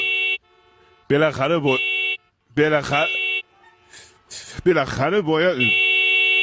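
A car horn honks in a few sustained blasts at the start and end of the stretch, loud and close, while excited voices talk loudly in between and over it.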